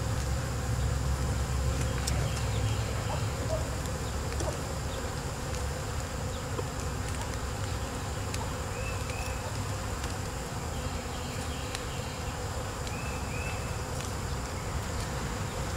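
Honeybees buzz around an opened hive after winter, a steady, dense drone of many insects close by, continuous throughout with no talking.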